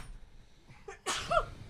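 One loud, close sneeze bursting out after a quiet stretch with a faint breath just before it.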